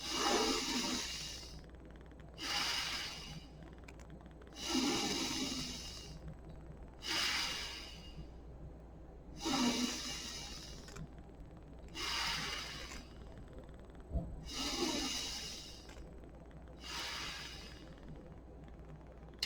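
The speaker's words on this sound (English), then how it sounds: "we'll go in the nose, pause, out the nose, pause." Slow nasal breathing exercise, in and out through the nose: eight steady airy breaths with brief pauses between, close and fairly soft, with no talking.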